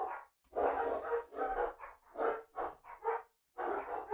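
Dogs bark in bursts of repeated woofs with short pauses, some panting and whimpering between, fairly close and steady over a few seconds without speech.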